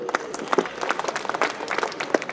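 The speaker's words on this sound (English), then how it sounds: "Let us clap for them." Audience applause at a Christmas gathering at St. Xavier's College, Simdega: a moderate round of many hands clapping with uneven, scattered claps, heard alone.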